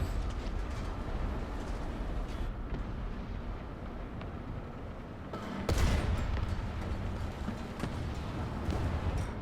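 Tank cannon shells firing and striking in the War Thunder video game, with a Soviet T-35 heavy tank in play: a dense barrage of gunfire-like blasts over steady battle rumble, with a sharp loud impact about midway.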